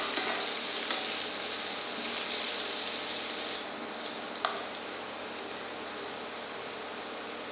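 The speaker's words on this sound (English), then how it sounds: "Ginger. Saute for 1 minute." Ginger sautés in a pan with a constant bright sizzle, loud at first and then slightly softer after a few seconds, with one small tap partway through and no talking.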